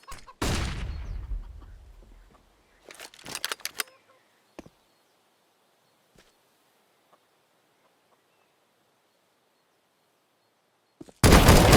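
A flashbang grenade thrown in a video game goes off with a loud burst that rings down over about two seconds, followed by scattered clicks and sharp shots, then another loud blast right at the end.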